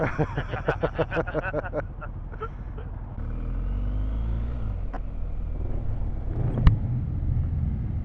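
A Harley-Davidson motorcycle engine revs on a road ride, a deep rumbling drone that swells and holds close by with a brief thumping pulse, while riders talk over it.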